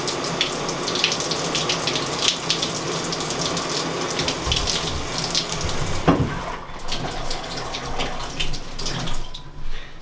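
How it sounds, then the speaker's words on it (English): A shower runs steadily at full flow, a dense continuous hiss and splatter of water close by that shifts briefly as something moves through the spray, with no voices. "So I have the shower on and we're gonna get in."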